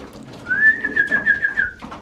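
A pigeon gives a clear, close rolling coo lasting just over a second while the flock feeds after a three-hour flight, with soft scuffling and faint background bird sounds around it.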